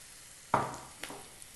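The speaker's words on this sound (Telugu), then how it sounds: "ఇవి మగ్గుతూ ఉండగానే ఇందులో కరివేపాకు వేసుకోవాలి" Curry leaves drop into a pan of masala prawns with a sudden loud crackling sizzle that fades quickly, followed by a couple of softer spatters; no one speaks.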